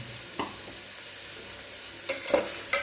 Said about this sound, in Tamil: கேரட்டு, பீன்ஸு, உருளைக்கிழங்கு ஆட் பண்ணி ஒரு நிமிஷத்துக்கு வதக்கிக்குவோம்.